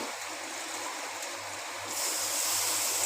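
Rinse water from a rinsed mixer-grinder jar poured into a pan of prawn malai curry, a steady broadband watery rush that grows louder near the end, with no talk.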